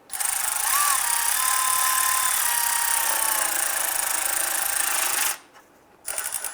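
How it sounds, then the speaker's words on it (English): A power tool runs down the oil pan bolts on a 2002-2008 Dodge Ram 1500, a loud, continuous close whir for about five seconds, then a brief pause and a short second burst. "I'm going to go ahead and run all of these bolts down."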